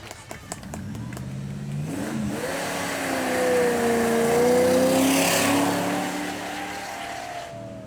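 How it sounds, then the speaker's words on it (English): AC Cobra V8 with side-exit exhaust at a supercar weekend, rumbling close by then revving hard in a rising, rasping surge that peaks and eases, loud against faint outdoor background. "nothing small or quaint about the engine in the AC Cobra. It's a sledgehammer of a V8."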